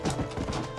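Horse hooves clip-clop at a steady trot in the Red Dead Redemption video game, close and continuous, with a brief whinny-like tone in the mix.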